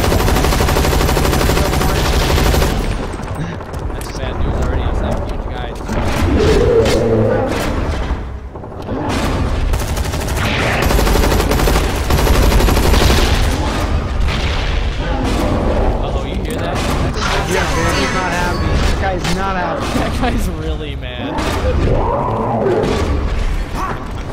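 Rapid gunfire and booms from a zombie-shooting video game run nearly continuously and loud, with dense bursts layered under excited talk from players throughout.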